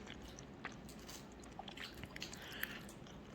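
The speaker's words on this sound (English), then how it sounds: "Christopher's on his second taco now." A young boy chews a taco up close, making soft, moist munching and small crunchy bites in an irregular rhythm over quiet room background.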